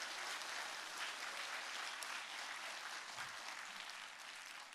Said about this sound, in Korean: 우리 박수하면서 서로 격려하겠습니다.